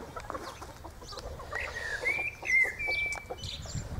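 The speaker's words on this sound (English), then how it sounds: "Cockerel's got round here now." A rooster clucks and gives a few short, raised calls nearby, with faint outdoor background noise.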